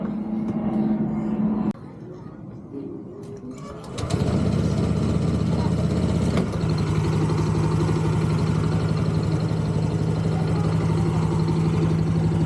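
Honda Click 160 scooter engine idling steadily while warming up after an oil change, a continuous close, loud buzzing hum that steps up after a brief starting burst.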